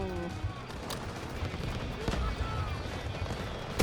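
Gunfire in the Delta Force shooter game, sharp shots and bursts cracking over a dense battle din, with a player's voice exclaiming over the action.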